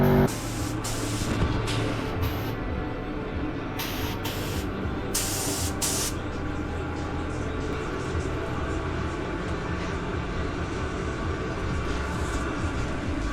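Steady, loud hissing of a spray gun painting a drift car continues throughout, with short sharper bursts of spray near the beginning over a constant background rush.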